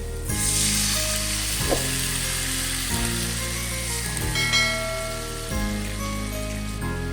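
Sauce poured into a hot pan for a bangus (milkfish) steak, giving a bright, close sizzle that holds steady with light stirring, while a faint musical tone runs underneath and no one speaks.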